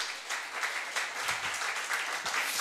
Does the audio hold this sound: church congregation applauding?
yes